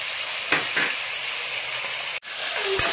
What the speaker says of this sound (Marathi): त्याला तर मग छान परतून घ्यायचं आहे। कांदा मस्त शिजून दिलेला आहे, कांदा टोमॅटो मिरची।